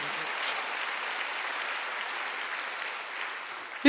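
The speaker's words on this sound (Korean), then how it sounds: "박수 한번 더 해주세요." A church congregation at a Sunday worship service claps together in sustained, dense applause, steady and fairly loud throughout before cutting off abruptly at the end.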